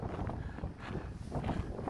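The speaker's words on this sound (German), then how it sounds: "Hier ist zwar viel Wind hier vorne." Strong wind sweeps along a Mediterranean coastal path in Sardinia at evening, buffeting the microphone with a constant low rumble and gusty roar.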